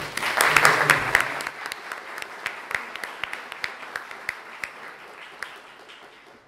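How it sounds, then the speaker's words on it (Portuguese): An audience at a lecture on cooperative democracy applauds Professor Jorge, beginning with a brief murmur of voices before settling into sparse, distinct claps that gradually thin and soften. "Uma salva de palmas"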